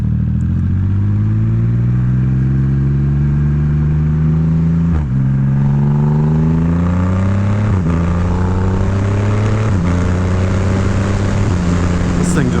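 A 2022 Triumph Rocket 3 GT motorcycle accelerates hard and close, its engine pitch climbing repeatedly through several quick gear shifts with short dips between each rise.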